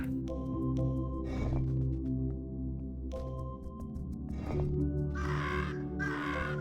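Crows cawing loudly in repeated harsh bursts, several calls spread across the clip and growing stronger toward the end, over a steady low background hum.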